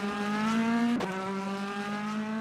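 A car engine holds a steady, loud drone, with a sharp shift in pitch partway through as it changes gear or passes.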